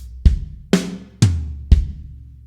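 Four drum hits on a kit in a linear fill moving across floor tom, hi-hat, kick, snare and rack tom, each hit sharp and booming with a decaying tail, spaced about half a second apart, loud and close with no talk.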